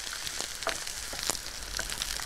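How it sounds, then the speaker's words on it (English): Celery and carrots sizzling steadily in a frying pan, a close, continuous crackle with small pops and no voices over it. "Keep the celery and the carrots sizzling away until they go soft."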